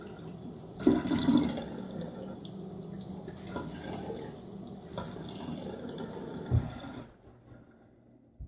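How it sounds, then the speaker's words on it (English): Water splashed onto a face over a bathroom sink before shaving, with running tap flow, a few splashes and drips, close and fairly quiet, fading to near silence at the end. "again, we'll hit my face with some water."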